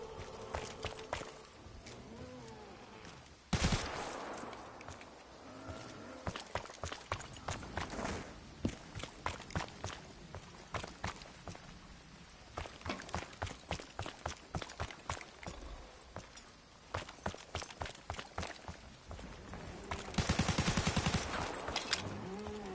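Rapid gunfire from weapons in Call of Duty Black Ops 3 runs through the whole stretch in dense repeated bursts, with a few heavier blasts. It is fairly close and continuous, with only brief pauses between volleys.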